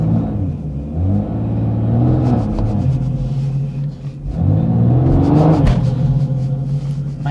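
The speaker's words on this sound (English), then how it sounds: "Mate, stop doing a burnout." BMW M140i engine during a burnout, a loud close rumbling drone that rises and falls with revs, dipping briefly midway before surging again.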